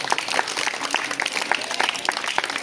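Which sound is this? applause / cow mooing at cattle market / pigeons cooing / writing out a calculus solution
applause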